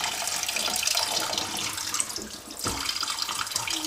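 Tap water pours steadily into a sink while mackerel or sardines are washed, a continuous close splashing rush with no talking.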